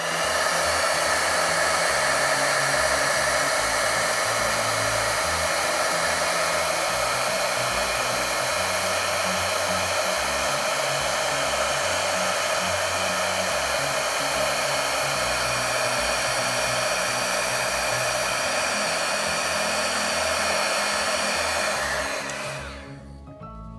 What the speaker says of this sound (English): you want to make sure to move the heat gun around slowly while you're embossing